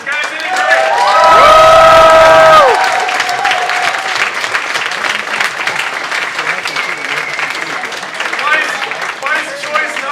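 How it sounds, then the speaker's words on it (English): Audience applause and cheering for quiz show teams swell after a brief musical sting, dense clapping with whoops continuing steadily to the end. "let's have a round of applause for both the teams, guys"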